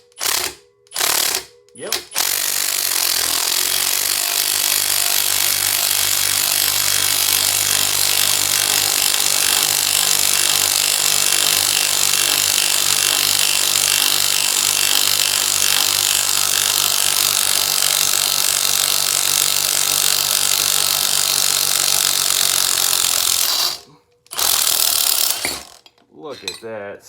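A three-jaw puller is cranked to pull a pulley off a Baldor electric motor shaft, producing a long, loud, continuous ratcheting and grinding that stops abruptly, with a brief voice near the end.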